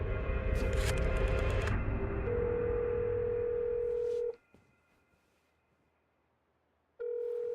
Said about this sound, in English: You put your finger in at the number you want to dial and you rotate it all the way to the line.